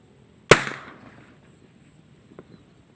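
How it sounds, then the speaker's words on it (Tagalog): A single loud, sharp blast from a boga noise cannon fired to scare birds off a rice field, with a lingering echo, followed by a faint distant pop and quiet outdoor background. "Maririnig naman nila yung tunog ng boga"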